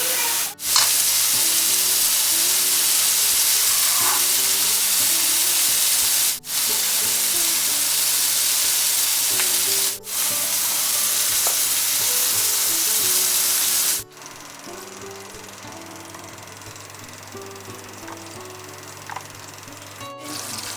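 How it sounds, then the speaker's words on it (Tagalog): Shrimp frying in butter in a pan, a steady broadband sizzle running continuously and close up, with a few brief clicks and a slightly quieter stretch near the end. "nagluluto tayo ng shrimp ngayon and yung butter ni Ami"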